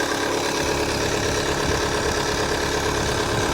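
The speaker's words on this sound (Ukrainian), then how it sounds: "вже хвилин 10 працює, двигун трішки прогрівся" A 2014 Opel Insignia 2.0 diesel with 177,000 km idles after about ten minutes of warm-up, giving a steady, close, unbroken diesel clatter with a constant hum and no talk over it.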